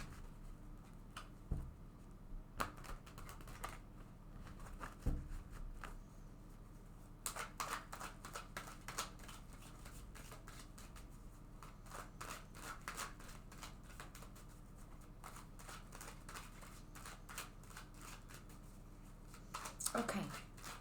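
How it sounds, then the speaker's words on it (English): Soft rustling and riffling of a tarot deck being shuffled in a quiet room, with irregular clicks and taps of cards hitting each other throughout. "Shuffle this deck a couple of times."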